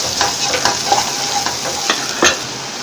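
Finely chopped onion sizzles in a pan until light golden while a spoon stirs it, a steady close hiss broken by quick scraping taps and knocks.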